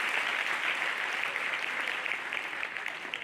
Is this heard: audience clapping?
yes